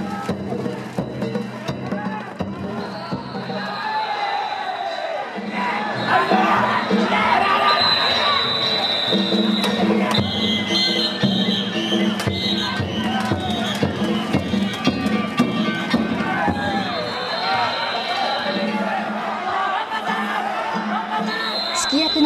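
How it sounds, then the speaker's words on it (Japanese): A roadside crowd at the Kishiwada danjiri festival cheers, shouts and applauds continuously as the float turns a street corner, loud and lively throughout. "沿道からは大きな拍手が沸き起こりました。"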